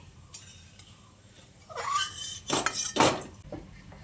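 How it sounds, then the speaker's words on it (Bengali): Fried tempering spices being scooped out of a pan into a bowl for a vegetarian bottle gourd dish, heard as a few metallic scraping and clinking spoon-on-pan sounds, moderately close, with no talking. "এই ফোড়নের অর্ধেকটা তুলে নিচ্ছি একটা বাটির মধ্যে"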